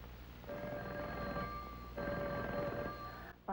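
An old telephone bell rings in two clear bursts with a short gap between them, loud and alone over a faint background hiss.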